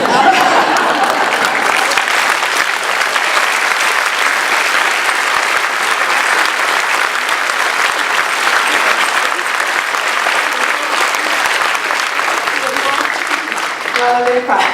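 An audience at a Primorska personalities event claps steadily and loudly for about fifteen seconds, a dense, even wash of applause from many hands with scattered cheers in it.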